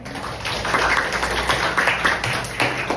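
An audience of students at a high school campaign event claps, a dense sustained burst of applause that swells at times and carries on to the end, fairly loud and close.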